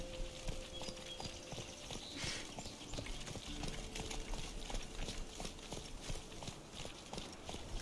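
Geralt's horse Roach in The Witcher 3 trots and gallops, its hooves beating out a steady, rapid clip-clop rhythm that stays close and moderately loud, with a faint rustle of movement alongside.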